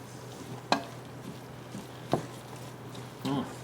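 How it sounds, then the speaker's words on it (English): Empanada filling stirred in a pan: a soft, steady sizzle with three or four distinct scrapes and knocks of a spoon against the pan, spaced a second or so apart, close by. "Give it one more mix."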